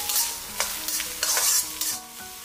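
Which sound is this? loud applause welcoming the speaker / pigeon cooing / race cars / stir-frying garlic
stir-frying garlic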